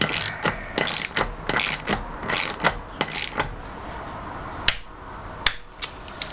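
A ratchet-type torque wrench tightens a wheel on a classic Fiat 500, giving close rhythmic ratcheting clicks followed by a few sharp, isolated clicks.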